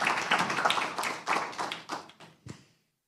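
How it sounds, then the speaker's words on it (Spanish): Audience at a law congress electoral panel applauds in a short burst of hand claps that thins out and ends with a few last claps, fairly close. "para quien también pido un fortísimo aplauso"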